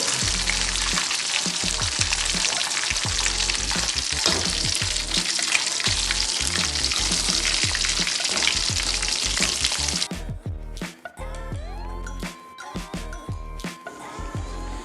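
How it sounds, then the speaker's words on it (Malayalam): Fried chicken pieces being lifted out of hot oil, a dense loud sizzle and crackle for about ten seconds, then quieter scattered bubbling with a few scraping clinks as the frying dies down. "നമ്മുടെ ചിക്കൻ പൊരിച്ചത് അങ്ങനെ റെഡിയായി എല്ലാം കോരി എടുക്കുന്നുണ്ട്."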